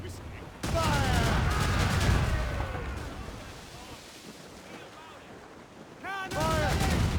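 Ship cannons in Assassin's Creed Rogue fire in a rolling broadside, heavy booms layered with crackling gunfire and battle noise, loud then fading, with shouted voices over the din and another burst at the end.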